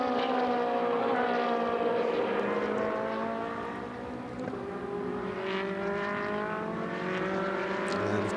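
Ferrari race cars in the 2016 Trofeo Pirelli race at Hockenheim roar past, engine notes rising and falling with Doppler sweeps as several cars go by in close succession at moderate distance.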